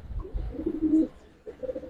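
Giribaz and grizzle pigeon pairs cooing in a loft, two short low throaty coos close by, the first longer and rolling, the second brief after a pause.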